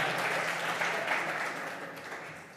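An audience claps in a workshop room during a blockchain developer session, a sustained burst of applause that fades gradually toward the end.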